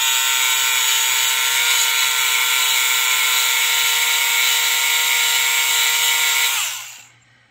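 A Tamiya Electric Handy Router running, a loud steady high-pitched whine held for several seconds, then spinning down and fading out at the end.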